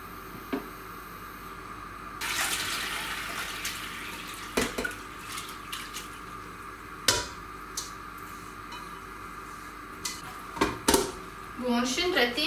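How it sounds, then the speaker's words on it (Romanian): Boiled nettles in a strainer drain water in a faint trickle, broken by sharp clicks and clatters of kitchen utensils, with quiet room sound between. "Le pun în strecuritor și le las să se scurgă bine"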